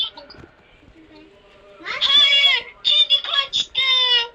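A cat in a video game meows several times in quick succession, bright and close, with short pauses between calls after a quiet stretch.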